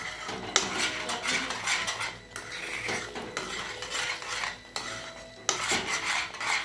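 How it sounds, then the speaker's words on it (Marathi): A spoon scrapes and clinks around a pan as paneer butter masala gravy is stirred, with repeated metallic scraping and a few sharp knocks, close by and with no talking. "ही ग्रेव्ही पूर्ण हलवून मी परत झाकून ठेवते"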